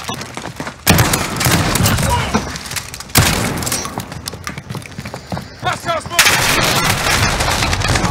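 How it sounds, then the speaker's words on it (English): Loud, dense gunfire from the first-person shooter Modern Warfare, with repeated bursts and sharp shots running throughout under overlapping player talk. "I was shooting at teammate, I was shooting at everybody"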